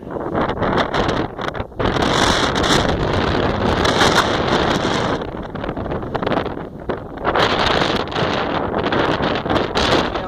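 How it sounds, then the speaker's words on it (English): Heavy wind buffeting a microphone at an outdoor sports complex, loud roaring gusts that rise and dip in strength, with brief lulls between blasts. "Windy it is, so I'm always practicing in the wind."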